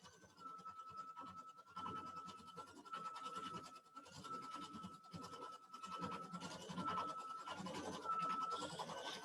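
A Baby Lock IQ Designer embroidery machine stitches out a trapunto design, a quiet, steady rapid ticking and scratching of the needle with a faint continuous motor whine, fairly distant and soft.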